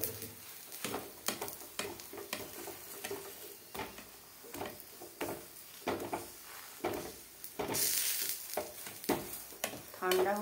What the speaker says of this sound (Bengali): চেপে চেপে ভাজতে হয়।